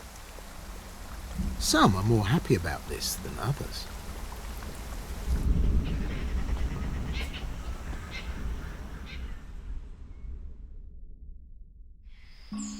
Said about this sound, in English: The rain has set in